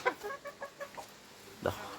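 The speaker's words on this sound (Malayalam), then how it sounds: "അടയിരിക്കുന്ന ഒരു പിടക്കോഴിയാണുള്ളത്." A brooding hen sitting on eggs in a coop gives a quick run of soft, low clucks, then one louder cluck after a short pause, heard close and alone.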